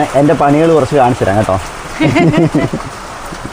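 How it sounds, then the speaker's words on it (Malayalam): Heavy rain falling outdoors, a soft continuous hiss of drops in the background while a person talks loudly over most of it. "നല്ല മഴ ഇവിടെ"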